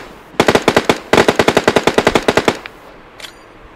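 Rapid automatic gunfire from a shooting video game: two long, loud bursts of evenly spaced shots, the second longer than the first, followed by a faint, brief crackle.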